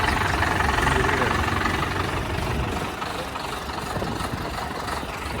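Indofarm 3060 three-speed tractor on 16-inch tyres idling with a steady, rough low rumble close by, while people talk over it.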